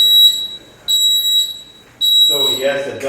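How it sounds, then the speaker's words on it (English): High, steady electronic beeps from a folding mobility scooter reversing repeat in long tones, about one per second, with a voice and movement noise coming in near the end. "it does beep when you back up"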